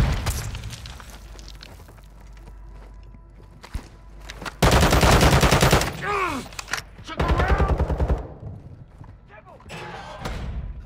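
Gunfire in a military shooter video game: distant popping shots at first, then loud, close rapid automatic bursts in two long stretches, with voices shouting amid the combat noise.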